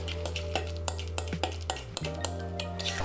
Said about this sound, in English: Then you want to continue softening it a little bit more with the fork.